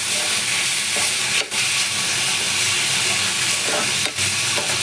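Radish curry fries and is stirred in a pan with a steady, loud sizzle, broken by two brief scraping strokes of the spoon; no one speaks.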